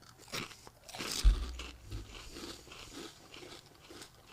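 Funyuns onion-flavored snack rings bitten and crunched close to the mic: a sharp loud crunch near the start, then softer crackly chewing that fades out.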